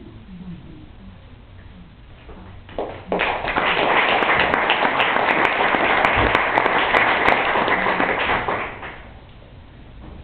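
Audience applause breaks out after a poem at a Carriage House Poetry Series reading, rising suddenly into a steady wash of clapping that holds for several seconds before fading back to room noise.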